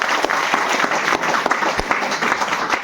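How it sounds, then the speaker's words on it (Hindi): Audience applause at a business opportunity program in Isuapur, Chapra: dense, loud clapping from a crowd, sustained for a few seconds without a break. "बजाओ ताली इसके लिए भी।"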